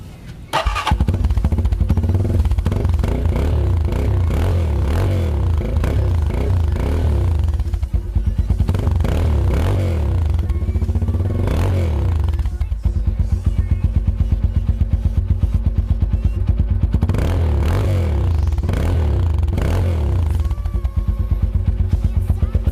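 A Kawasaki Z200S motorcycle revs hard through its stock Gamma exhaust pipe. The loud, close engine drone surges and falls repeatedly with a buzzy, clattering exhaust note that runs without a break.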